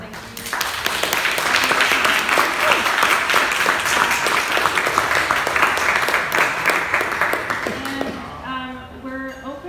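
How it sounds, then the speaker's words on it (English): An audience at a blockchain art panel in Miami claps for the panelists, a loud, dense burst of many hands that carries on for about eight seconds and then quickly dies away, with a voice coming in at the end. "So I'd like to give a quick round of applause to everyone on the panel"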